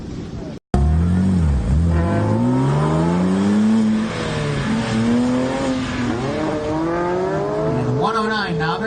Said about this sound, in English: 109 novice in a beautiful blue Boxster. Starts the second run.